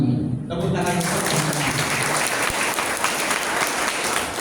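Applause from the audience at a Muhammadiyah KOKAM religious gathering held in the evening, breaking out after a short moment of speech and then sustained as dense, loud clapping for several seconds.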